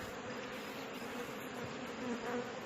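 Honeybees in a hive being calmed with bay leaf smoke, giving a steady, dense buzzing hum that stays close and even throughout with no talking.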